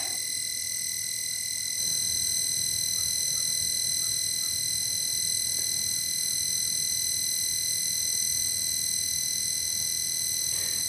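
An old Vexilar fish finder unit gives off a steady electronic buzz with high whining tones, continuous and fairly loud for the whole stretch with no talking.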